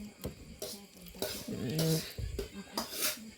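A serving spoon scoops rice and bamboo shoot curry from a pot in a home kitchen, giving several close clinks and scraping knocks against the cookware, with a voice speaking in between.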